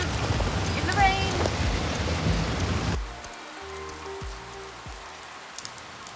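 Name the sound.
rain falling at night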